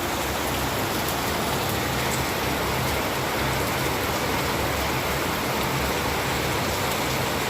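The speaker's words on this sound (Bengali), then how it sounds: "আমাদের এখানে মুষলধারায় বৃষ্টি হচ্ছে" Heavy monsoon rain pours down in a thick, constant roar, dense and close with no break, drowning out any other sound for the whole stretch.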